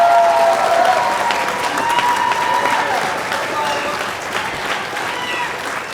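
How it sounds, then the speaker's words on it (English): Wedding guests applaud together, a steady broadband clapping that stays fairly loud and fades slightly toward the end, with a faint voice briefly audible at the start. "So let's give it up for Joanne, round of applause."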